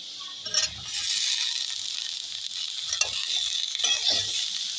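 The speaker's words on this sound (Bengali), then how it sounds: "লাউটা দিয়ে ভালো করে নেড়ে চেড়ে নেব" Chopped bottle gourd being stirred and fried in a pan, giving a steady loud sizzle with a few scraping stirs and soft clatter, and no talking.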